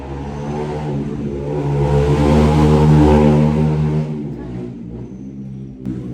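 A motorbike engine revs and grows louder on a road in Munnar, India, then its roar drops away as it passes, leaving a quieter rumble behind.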